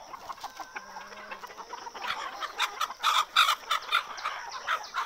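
Desi and Sonali chickens on a poultry farm cluck repeatedly in short bursts that grow louder and busier toward the end, with birdsong-like chatter mixed in at close range.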